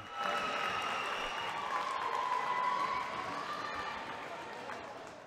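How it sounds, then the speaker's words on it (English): A crowd at a men's college basketball game cheers and applauds after the home team's win, a broad sustained roar of voices and clapping that stays loud and slowly eases off. "Listen to the crowd."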